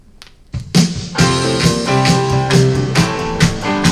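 Real acoustic drums play from a vinyl record on a turntable, a steady beat of punchy kick and snare hits with ringing tones, loud and alone after a soft start.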